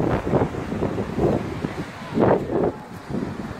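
Strong wind buffets the microphone on a beach at Isola Verde, coming in loud irregular gusts with a rough rushing roar and short surges over a few seconds.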